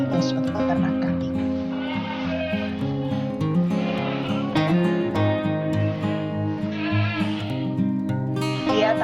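Goats bleat at an Indonesian goat farm, several overlapping cries carrying on continuously and loudly, with some talk mixed in.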